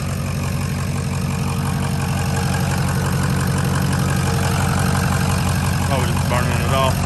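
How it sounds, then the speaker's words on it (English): A 2005 Ford F-350 King Ranch diesel idling close by, a steady loud low rumble with an even clatter that holds unchanged throughout, with a faint higher whine briefly near the end. "I'm gonna let it sit here and idle for a few"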